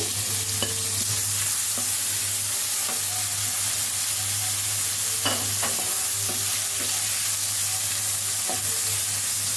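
Onions browning in a pan for a Chinese-style pasta, frying with a steady close sizzle and a low constant hum, while a spatula stirs and clinks against the pan at irregular intervals; no talking.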